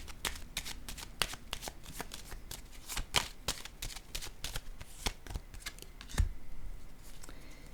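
Tarot cards being laid down and handled, a rapid series of sharp, close card snaps and flicks in an irregular rhythm, with a brief louder shuffle near the end and no talk.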